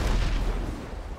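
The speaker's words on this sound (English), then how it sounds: "It's just fireworks." Fireworks go off in a heavy, booming burst that rumbles and fades over about a second, loud and fairly close with no talk over it.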